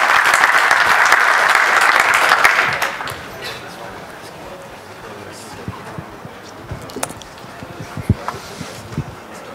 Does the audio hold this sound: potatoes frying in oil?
no